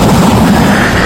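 A gunshot in a film scene: one loud, dense burst of blast and rumble that fills the short moment.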